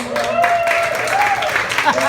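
Audience applause and scattered clapping at a stand-up comedy show, with voices speaking over it.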